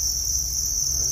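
Farmed crickets chirp in a steady, shrill drone that fills the whole moment without a break, with a low rumble of background noise beneath it.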